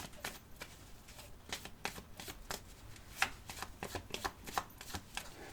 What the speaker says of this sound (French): Je vais faire mon tirage en 13 cartes avec le petit Lenormand.